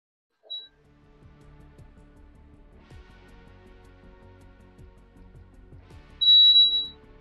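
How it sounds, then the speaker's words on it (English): A thin, high-pitched electronic beep sounds briefly, then returns louder and longer near the end, over a low background hum during Fortnite vending machine gameplay. "Why have you got like, a really high-pitched beep coming out?"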